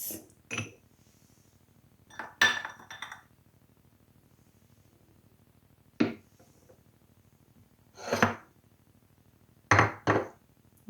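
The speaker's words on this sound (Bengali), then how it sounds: "এখন আমি এর মধ্যে দিয়ে দেব আইস" Ice cubes dropped into a blended yogurt lassi in a home kitchen, landing as sharp separate clinks and clatters in several bursts with quiet gaps between them, fairly close and with no one talking.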